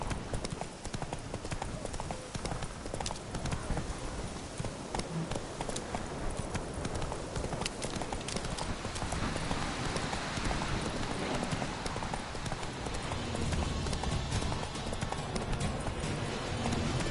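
Roach, the horse in The Witcher 3, galloping with a fast, rhythmic clatter of hooves close by over a dense ambient bed, steady and driving throughout, with a voice speaking over it.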